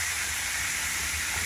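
Pork chops frying in a pan with rosemary and sage, a steady close hiss of spattering grease, brief and unbroken with no talking.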